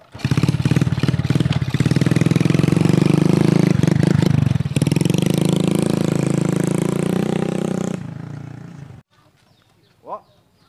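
A motorcycle engine runs loud and close, pulsing and revving roughly for several seconds before dropping away and cutting off into near silence, with a brief faint sound at the end.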